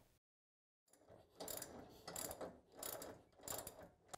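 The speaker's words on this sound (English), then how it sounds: "We're going to start at the bottom with the radius rod bolts, and we're going to torque those to spec." A ratchet torquing radius rod bolts on a Polaris RZR XP 4, heard as several close rhythmic bursts of pawl clicking after a brief silence, faint overall.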